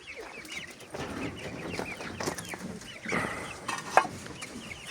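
Chickens and young chicks clucking and peeping in a backyard coop, a steady busy chatter of calls with one sharper chirp near the end, close by with no talking.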